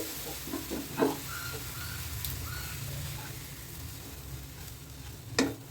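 Oats are stirred in a pan as water is sprinkled over them, producing a faint low sizzle with a couple of brief scrapes of a spoon, quiet and close, with no speech.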